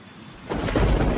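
Monsoon thunderstorm sweeping over Ranthambore, India: a deep rumble of thunder swells in after a quieter start and builds loud and close, with rain hiss spread across the top.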